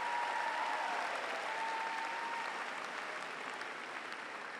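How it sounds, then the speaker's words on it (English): Sustained crowd applause at an Auburn University summer 2019 graduation ceremony, honoring the graduates' friends and relatives; dense, steady clapping from a large audience that holds throughout and fades slightly toward the end, with no talking. "So a round of applause for your friends and relatives."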